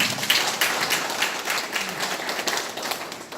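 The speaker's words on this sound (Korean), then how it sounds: "우리 동생님께 박수 한 번 좀 보내주십시오" An indoor audience at a Daegu art exhibition opening gives a brief round of applause, dense overlapping hand claps at moderate volume that hold steady and then taper slightly.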